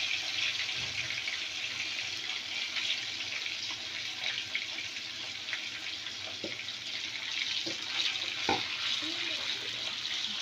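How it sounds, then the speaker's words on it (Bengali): Singi fish frying in hot oil, a steady bright sizzle and crackle throughout with a few soft clinks of a utensil against the pan. "আমি শিং মাছগুলো ভেজে নেব।"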